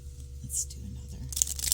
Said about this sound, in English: Just because I am so damn thrilled to be able to shuffle a deck this thick that easily.